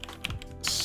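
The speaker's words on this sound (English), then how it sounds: "So let's go to the top of the C++ class and add them by typing out" Rapid typing on a computer keyboard while writing C++ include lines in an Unreal Engine project, a short run of close, crisp key clicks with one heavier thump partway through.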